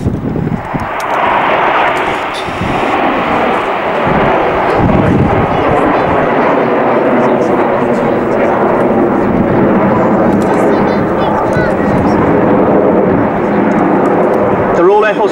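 Jet aircraft of an aerobatic display team, Hawker Hunters trailing smoke, roar past at an airshow in a loud, sustained rumble while an announcer talks over it.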